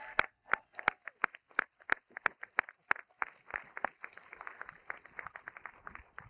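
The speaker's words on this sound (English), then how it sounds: "Can we get a round of applause for all of our poets?" A small audience at a Cave Canem poetry reading claps for the poets: a few distinct, sharp claps in uneven rhythm that thicken into a brief patter of scattered hands before fading, close and fairly loud.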